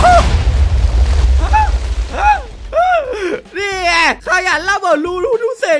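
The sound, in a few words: explosion in Minecraft video game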